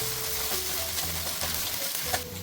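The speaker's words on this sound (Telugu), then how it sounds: "అల్లం వెల్లుల్లి పేస్ట్ పచ్చి వాసన పోయేంత వరకు ఫ్రై చేసుకోవాలండి" Ginger garlic paste sizzles steadily in a pan while cooking mutton palak keema, a continuous moderate fry hiss with a few small pops and no talk.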